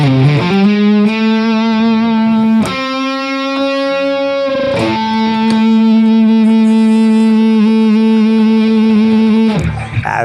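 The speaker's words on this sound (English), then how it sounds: "This is just feedback galore, and at bedroom level." Electric guitar feeding back at bedroom volume through a small speaker glued to the guitar body: loud, distorted sustained tones that hold and swell, with the pitch jumping between harmonics a few times and no talking.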